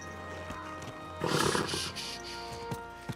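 A horse in the medieval video game Kingdom Come Deliverance 2 gives a loud, close whinny midway, with hoof clip-clops and ambient game sound around it and no talk.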